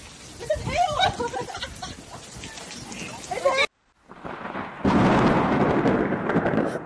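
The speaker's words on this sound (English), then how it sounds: "Check this out! This is hail!" Hailstorm pelting Phoenix, Arizona, heard first as a clatter under excited speech, then after a brief silent cut as a loud, steady roar of hailstones hitting surfaces close by.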